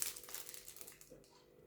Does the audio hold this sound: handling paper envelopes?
yes